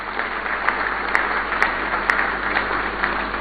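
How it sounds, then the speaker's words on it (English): Audience applause on a TV talk show, a steady wash of clapping with occasional sharper claps, moderately loud and continuous with no voices over it. "President Mahama deserves a round of applause"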